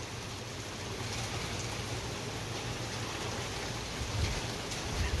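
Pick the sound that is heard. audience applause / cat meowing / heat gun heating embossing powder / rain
rain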